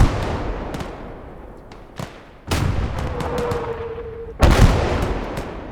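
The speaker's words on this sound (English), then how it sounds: "Okay, so I've got my artillery hitting that compound on the left." Artillery fire in the World War II strategy game Gates of Hell, with shells striking a compound: two heavy booming impacts a couple of seconds apart, each trailing a rumbling decay over low background battle noise.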